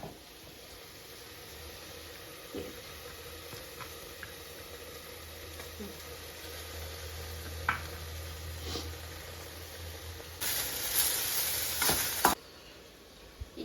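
A paste of mint, coriander, ginger and garlic fries with tomato for a soya chunks biryani, giving a soft, steady sizzle with occasional stirring clicks, and a louder hissing surge near the end.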